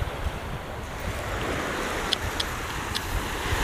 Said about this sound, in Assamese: উত্তম আৰু চঞ্চল সাগৰৰ মাজত গা ধুই আছে।